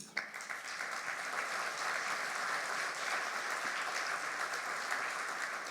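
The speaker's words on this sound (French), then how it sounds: "Vous pouvez les applaudir." An audience applauds architects after a round-table discussion on tile and brick facades, a steady, fairly quiet wash of clapping sustained throughout with no voices on top.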